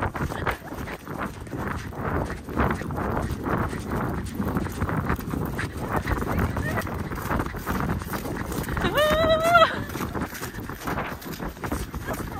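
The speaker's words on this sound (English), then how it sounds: "I've never cantered on another horse holding my phone" A horse canters on a ridden outing, its hooves drumming in a steady rolling rhythm up close, with brief light vocal sounds over it and a short high squeal near the end.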